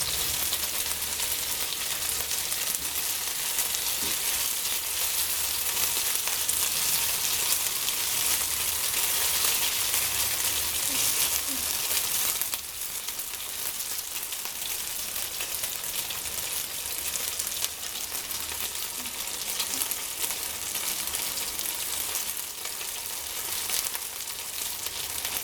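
Meatballs frying in a lot of oil, a steady dense sizzle that holds evenly and close throughout with no voices over it.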